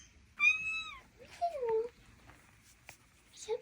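A cat meows several times up close: a long rising-falling meow, then a lower drawn-out one, and a short call at the end, each alone with quiet room noise between.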